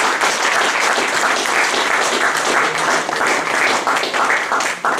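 A church congregation bursts into sustained applause during a sermon, a loud, dense wash of many hands clapping steadily throughout, with no one speaking over it.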